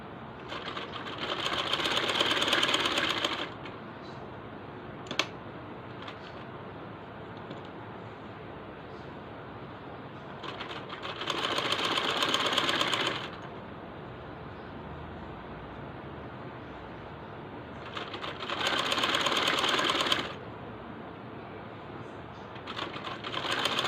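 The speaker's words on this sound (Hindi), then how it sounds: "तो अब मैं इस पट्टी के किनारे किनारे पे सिलाई लगा दूँगी।" A sewing machine stitches along the edge of a fabric strip for a garment sleeve, running in three steady whirring bursts of a few seconds each, separated by quiet pauses with small clicks.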